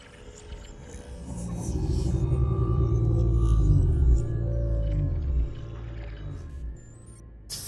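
A reefback, a huge whale-like alien creature in the Subnautica video game, lets out a deep, swelling call that builds and sustains for several seconds and then fades, loud and resonant over an underwater ambience.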